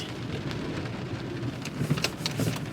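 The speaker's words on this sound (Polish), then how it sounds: "Zobaczcie po prostu jak leje." Heavy rain pours down in Istanbul as a steady, dense hiss, with scattered louder drips and splashes nearby.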